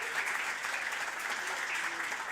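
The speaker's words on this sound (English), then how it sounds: "A round of applause." Conference audience applauding after a talk, a steady wash of many hands clapping at moderate distance, sustained throughout without talk.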